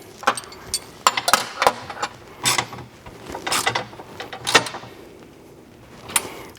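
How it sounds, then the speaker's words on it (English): Tightening bolts on a Cusco carbon strut brace in an engine bay gives a run of sharp metallic ratchet clicks and clanks in irregular bursts, close and fairly loud, with no talking. "Then the last thing we're gonna do is tighten these bolts here."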